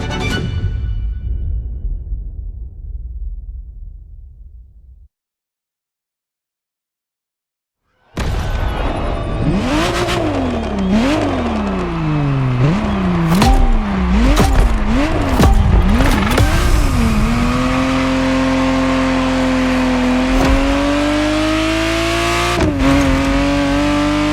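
A Ferrari Testarossa in the racing game The Crew Motorfest comes in loud after a few seconds of silence, revving hard in repeated sharp rises and falls before settling into a sustained, climbing engine roar.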